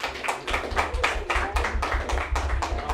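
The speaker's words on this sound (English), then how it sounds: "Give them a round of applause." Applause at a town board business meeting: a roomful of people clapping steadily for about three seconds, close and fairly loud, with the individual claps blending into a continuous patter.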